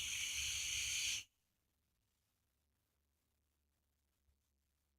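A draw on an El Cabron RDA atomizer built at 0.14 ohms, airflow fully open, makes a strong, close airy hiss and crackle for about a second before cutting off to near silence.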